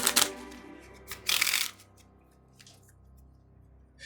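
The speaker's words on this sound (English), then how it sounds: "You shuffle so nicely, Miss Lethica." A deck of playing cards being shuffled during a tabletop folk horror role-playing game, with two close bursts of riffling at the start and a faint rustle trailing off afterward.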